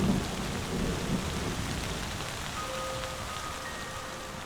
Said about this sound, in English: the rains return